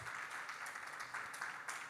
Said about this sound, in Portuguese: Podem bater palmas se esse sonho tocar vocês